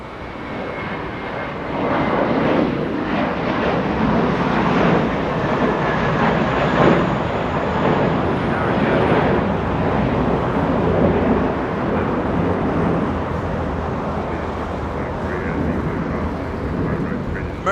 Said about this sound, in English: American 519 heading to Dallas, Texas. Airbus A321.